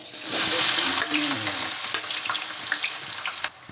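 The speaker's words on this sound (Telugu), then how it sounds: "ముందుగా ఒక ప్యాన్ తీసుకొని ఆయిల్ పోసుకొని దాంట్లో" Oil heats and fries loudly in a pan for a broad bean (chikkudukaya) curry, a dense, steady sizzle that stays close and continuous throughout.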